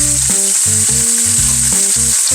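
Keto chicken scallopini fries in a pan with a loud, steady sizzling hiss, while lower tonal pulses start and stop beneath it.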